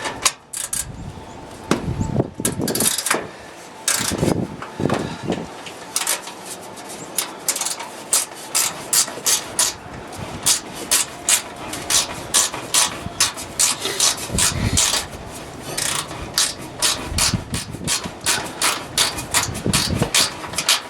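Small Robertson screwdriver working a long screw out of an Electrolux dryer panel, giving close, continuous scraping and rasping with sharp clicks and knocks in an uneven rhythm.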